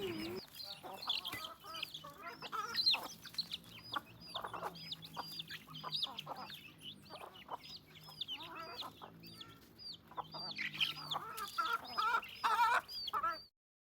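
Native country chickens cluck and chatter busily while being fed rice, a dense run of overlapping calls from several birds at close range, with no talk.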